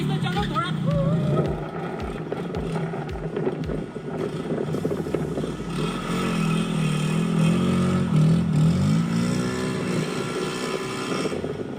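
A motorcycle engine whose fuel tank has been filled with mineral water sputters through a few start attempts, then catches and runs with a steady, moderately loud drone under a voice.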